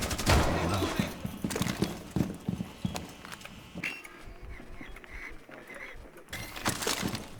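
Video game gunfire crackles in dense, rapid bursts, loudest in the first few seconds. It is mixed with clattering game effects, fades in the middle, and builds again toward the end.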